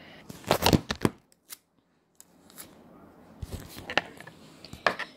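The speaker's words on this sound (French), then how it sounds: "Et maintenant, on va couper 2 bouts de scotch." Sharp snips and crinkly sounds of small pieces of adhesive tape being cut, in short clustered bursts separated by quiet pauses, recorded up close.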